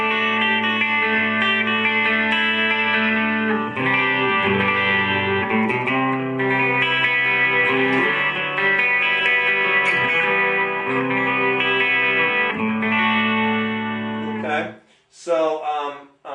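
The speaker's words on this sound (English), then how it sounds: "There's a little reverb, and now a little bit of chorus." An electric guitar plays loud, ringing chords through a solid-state amp's built-in shimmering chorus and reverb, sustaining steadily before cutting off briefly near the end.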